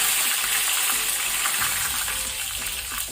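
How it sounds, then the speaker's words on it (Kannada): Loud, dense sizzling and crackling of mustard seeds popping in hot oil, a steady spitting hiss with no voices. "ಸಾಸಿವೆ ಚಟಪಟ ಆಗಲಿ"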